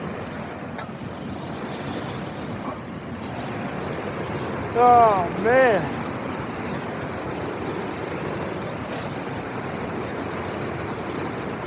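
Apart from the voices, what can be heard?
wind blowing on the microphone outdoors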